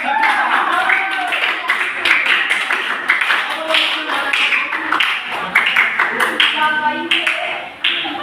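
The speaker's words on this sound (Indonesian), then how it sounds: "Tepuk tangan untuk kita semua." Classroom clapping from a group of students, a steady dense patter of many hands sustained throughout, with voices mixed in and some talk over it.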